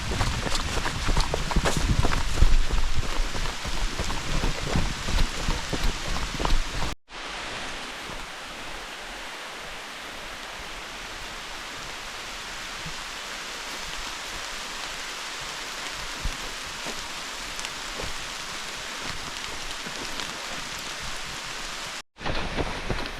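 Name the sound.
heavy rain falling on a forest trail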